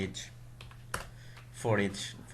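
Quick, light keystrokes from a computer keyboard as PHP code is typed, a scattered run of taps close by with a low steady hum beneath and a brief vocal sound near the end.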